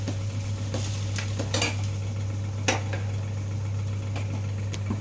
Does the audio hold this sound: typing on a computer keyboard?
no